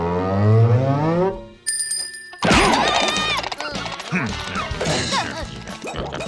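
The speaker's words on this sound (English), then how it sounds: "Wait for the bell." A race's starting bell rings in a SpongeBob cartoon: a short, bright bell chime, then a burst of loud crashing and zooming cartoon effects with speech.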